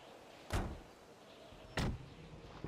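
Car doors moving in GTA 5: two distinct door thuds about a second apart, fairly quiet over a low background hum, with no talk.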